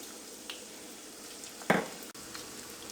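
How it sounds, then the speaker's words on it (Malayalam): Crushed garlic dropped into hot oil for a Kerala spicy mixture fries with a steady, soft sizzle, broken by one brief louder crackle near the middle, with no voices. "നമുക്ക് ചതച്ചെടുത്ത വെളുത്തുള്ളിയും ഒന്ന് എണ്ണയിലിട്ടിട്ട് വറുത്തെടുക്കുക."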